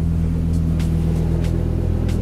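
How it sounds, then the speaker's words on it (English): 2004 Dodge Ram SRT-10 pickup with its V10 engine idling on a cold start, a steady deep exhaust rumble held close and even throughout. "So you can hear the exhaust, that signature V10 sound."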